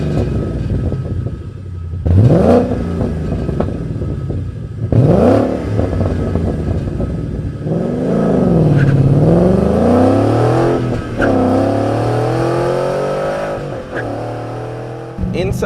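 A 2011-2014 Ford Mustang GT 5.0 with a Borla touring exhaust revs repeatedly, deep throaty blips rising and falling, then a longer sustained climb and drop, loud and close throughout.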